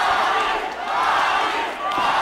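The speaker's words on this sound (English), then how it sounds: "Crowd cheering." Spectators at an MMA fight at the URCC 21 Warpath event cheer in a broad, continuous roar that swells and dips, filling the arena.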